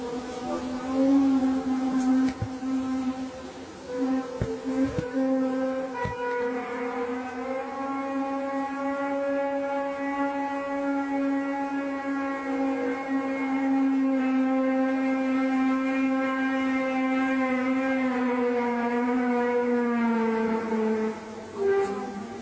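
A low, steady humming drone with a rich stack of harmonics, reported as the mysterious Hum heard in Argentina, holds almost unchanged throughout, with slight pitch drift and a few faint clicks early on.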